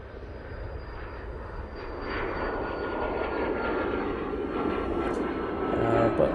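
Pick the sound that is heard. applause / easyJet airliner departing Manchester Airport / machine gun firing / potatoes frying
easyJet airliner departing Manchester Airport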